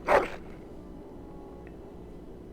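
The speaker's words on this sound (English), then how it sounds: "That is a wonderful dog." A single short dog bark, close and fairly loud, from a noble-looking hound in Dragon Age, followed by quiet background ambience.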